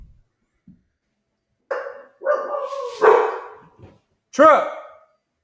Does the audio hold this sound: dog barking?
yes